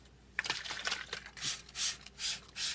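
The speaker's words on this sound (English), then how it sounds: "Have my hot water here. I'm going to give it a spray" After some light clicking and handling, a spray bottle of hot water hisses four times over hot process salt soap bars in a steady rhythm, each spritz close and crisp.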